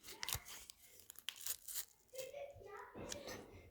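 Packaging is ripped open up close in short tearing and crinkling bursts, with a voice and other talk in the background.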